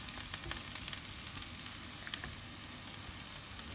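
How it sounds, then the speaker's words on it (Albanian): Two medium mushrooms with their top skin peeled fry gently in a pan, giving a continuous quiet crackling sizzle with small pops scattered throughout and no voices. "Kemi marrë 2 kërpudha mesatare dhe pasi kemi hiq pak atë fletën e sipër me të kërpudhave sa të skuqim pak sa të bëhen të buta"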